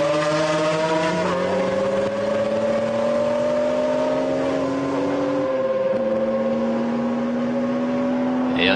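Race cars at the 1995 Le Mans 24 Hours, heard as a loud, sustained engine drone. Two cars rise and fall in pitch as they pass close by, shifting and revving, with a steady high roar throughout.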